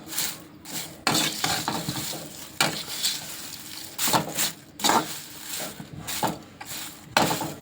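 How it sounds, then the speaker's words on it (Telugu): Dried curry leaves roasting in a pan, heard as repeated scraping stirs and light rattling against the metal with a faint dry sizzle underneath, close and rhythmic with no talking. "2 గుప్పెలు కరివేపాకు తీసుకొని ఇట్లా దోరగా అయితే వేయించుకోవాలి."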